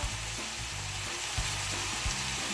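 A spoonful of coconut oil sizzles and crackles steadily in a hot pan, a close, constant frying hiss with a few soft knocks.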